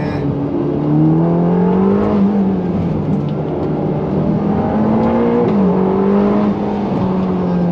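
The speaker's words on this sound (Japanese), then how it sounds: "回った時の甲高さはね、やっぱり フェラーリサウンドですよね" Ferrari Roma engine pulling hard from inside the car while driving, a loud continuous tone climbing and dropping through gear changes, steady and close with no talk.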